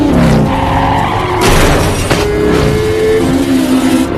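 Motorcycles in a film chase scene with a Triad gang skid and roar, loud tire screeches and engine whine layered with sharp bursts over a continuous dense rumble.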